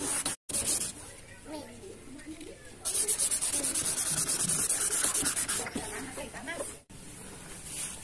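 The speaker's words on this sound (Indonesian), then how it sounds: "Kalau misalkan yang sedang-sedang aja biasa itu diusahakan dengan menggunakan amplas ukuran 2000." Fine 2000-grit sandpaper rubs across a yellowed, dull car headlight lens in a steady back-and-forth scratching rhythm, close and fairly loud, with a brief pause near the start and another near the end.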